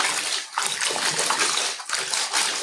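Water sloshing and splashing in a bathtub as roller blind fabric is washed by hand in soapy water, a steady wet swishing with two brief dips in rhythm.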